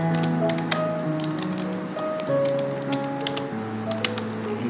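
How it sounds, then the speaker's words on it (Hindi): Keys clicking on a computer keyboard while typing text into an MS Word document, a steady patter of light taps over a sustained tonal background. "अब हमें यहाँ पर कुछ टाइपिंग करनी है डेफिनेटली"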